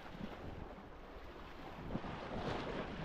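Waves ripple in against rocky natural steps at Malta's northernmost point under severe winds: a continuous washing surf, close, with heavy wind buffeting the microphone and a slight swell of water toward the end.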